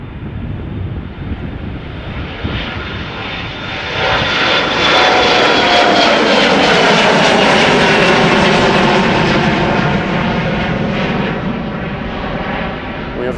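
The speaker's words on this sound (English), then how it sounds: "We have a little Embraer 175 from KLM passing us by, going to Humberside, KLM flight 1485" A KLM Embraer 175 jet passes at Schiphol Airport, its engine roar building from moderate to loud around the midpoint with a rising whine, then easing slightly as it moves by, heard alone without voices.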